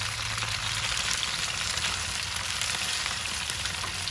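Potatoes and onions sizzle steadily in a cast iron pot, a dense, continuous frying hiss at close range with no break or change in level and no voices.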